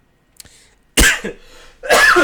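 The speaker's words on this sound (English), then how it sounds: "I just totally coughed all over my mic" Two loud coughs hit close to a microphone, a faint brief noise before them and a pause between, with no talking.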